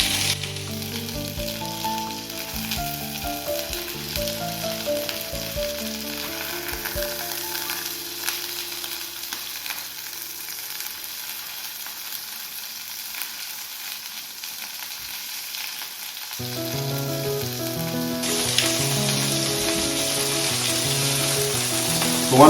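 A fish fillet fries in a pan with a continuous close sizzle that runs the whole time under layered background music, which changes partway through and dips briefly before returning fuller; no one speaks.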